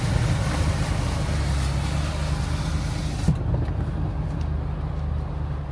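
A truck drives slowly through salt-water flooding from Hurricane Helene, its engine a steady low rumble blended with a continuous wash of water, loud and unbroken throughout.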